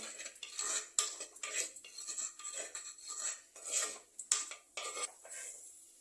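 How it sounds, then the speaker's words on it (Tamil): Onion rubbed around the inside of a clay pot during seasoning, heard as a series of close, rhythmic scraping and rubbing strokes with small clinks at intervals. "நல்லா இந்த வெங்காயத்தை மேலே வரைக்கும் தடவி தடவி விடுங்க"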